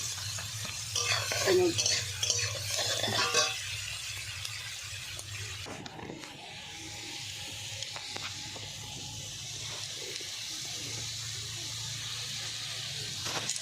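Onions frying in oil for a dried-fish curry, with a steady sizzle running throughout and bursts of stirring and utensil scraping near the start, no voices.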